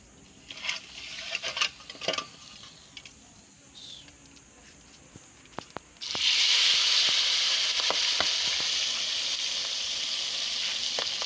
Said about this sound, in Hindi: पहले इस फिश को अभी तेल में डाला था और अभी फिश ये निकालेंगे तो फिर इसको दोबारा फिर डालेंगे